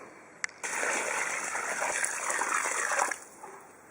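Water gushes steadily into a freshly dug hole in loose, crumbly soil where the capillary channels have been broken up, a close, continuous rushing pour lasting about three seconds before it cuts off.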